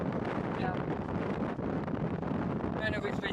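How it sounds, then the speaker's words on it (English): Strong wind on Pen y Fan mountain in South Wales buffets the microphone in a constant loud rumble, with a voice faintly audible through the gusts. "That's just so windy."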